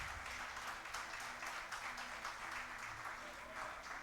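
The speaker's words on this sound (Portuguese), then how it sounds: "dá uma salva de palmas para Jesus" Congregation at a Portuguese-language church service applauding continuously, a dense steady wash of many hands clapping at moderate distance, with faint voices mixed under the applause throughout.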